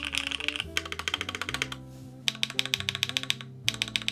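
Close, crisp typing on an Obliterated 75 mechanical keyboard fitted with Tangerine switches: steady clacky keystrokes in quick bursts, separated by short pauses, with no voice.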